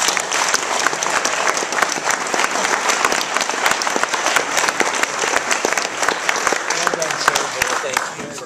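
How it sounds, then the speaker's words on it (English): An audience at a teaching award ceremony breaks into sustained, dense applause that fills the room for several seconds, with a few cheers and crowd murmurs mixed in. "So how about a round of applause for him?"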